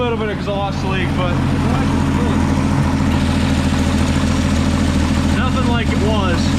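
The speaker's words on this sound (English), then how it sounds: "she's got a little bit of an exhaust leak" A 1961 Ford Falcon Delivery engine idling with a small exhaust leak, a steady loud close-up rumble with an even pulsing drone and faint chirps over it, and some voices in the background.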